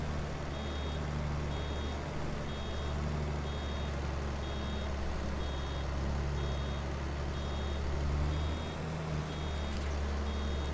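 Truck reversing alarm in Farming Simulator 22 while a vehicle pushes back, steady evenly spaced beeps repeating throughout over a loud continuous engine drone.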